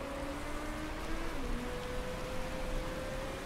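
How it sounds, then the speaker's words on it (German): Steady rain in the racing management game Motorsport Manager, a continuous hiss with faint tonal hums running underneath, no voices present. "Regen hat jetzt ein bisschen abgenommen"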